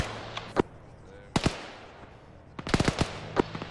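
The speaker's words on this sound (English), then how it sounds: "Logi's getting small arms fire from the A stage mark." Small arms gunfire crackles in the military game Arma 3 at a compound, with sharp single shots and a quick burst of several rounds, some fairly close, over a low background hum.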